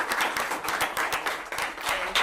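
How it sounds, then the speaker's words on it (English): Audience at a Kent Chamber of Commerce candidate forum for the 33rd District clapping in thanks, a dense, even patter of applause from a moderate-sized crowd indoors, heard without any speech. "Let's give them a round of applause."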